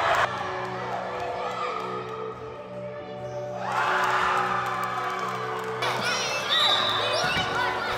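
Basketball dribbling on an indoor court during a youth game, bounces mixed under crowd noise, cheering and shouting children, with voices talking throughout.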